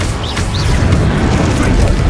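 Incendio fire spell cast in Hogwarts Legacy: a dense, sustained low rumbling blast with whooshing roar, loud and continuous, layered with game music or effects and a faint voice.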